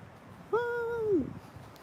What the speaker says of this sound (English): I hear a bird chirping right now.